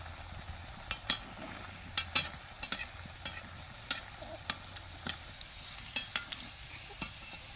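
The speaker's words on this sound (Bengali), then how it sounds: "এবার আমি কড়াইতে তেল দিয়ে এগুলো ভেজে নেব" Vegetable chops deep frying in white oil in a wok, a faint steady bubbling sizzle punctuated by regular light clicks and taps of a utensil against the pan.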